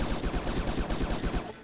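Rapid gunfire rattles in Fallout: New Vegas, a dense burst of quick repeated shots at a fairly faint level that cuts off at the end.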